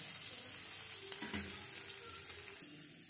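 Melted butter and oil sizzle softly and evenly in a pan, close but faint, with a brief clink and stir partway through and no voices.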